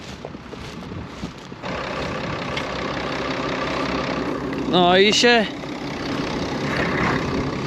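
A farm tractor's engine idles with a low, steady rumble close by while someone talks over it, a brief higher whine or squeal rising near the middle.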